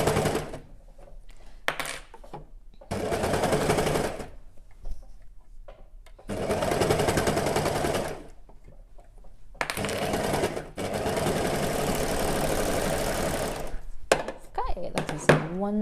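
An overlocker sewing machine stitches a garment in three close, steady runs of rapid mechanical whirring, separated by short quiet pauses while the fabric is adjusted.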